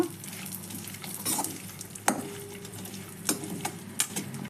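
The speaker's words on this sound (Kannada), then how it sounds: "ಈಗ ನಾವು ಕಟ್ ಮಾಡ್ಕೊಂಡಿರೋ ಡ್ರೈ ನಟ್ಸ್ ಎಲ್ಲ ಹಾಕ್ಕೊಂಡು ಫ್ರೈ ಮಾಡಿ ತೆಕ್ಕೊಳ್ಳೋಣ" Chopped dry nuts frying in a pan with a soft sizzle under scraping and stirring, punctuated by occasional sharp clicks of a spoon.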